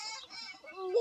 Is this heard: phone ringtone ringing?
no